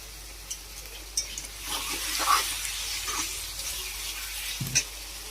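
Green peas and kasuri methi fry in hot oil for a soybean matar masala, giving a soft, steady sizzle. Faint stirring scrapes and a few light clinks of utensils come through.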